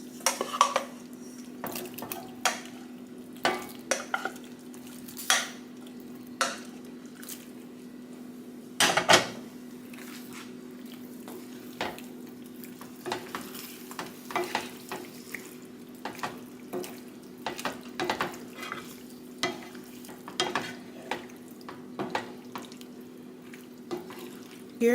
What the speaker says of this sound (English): Now I'm gonna add the noodles into the pot.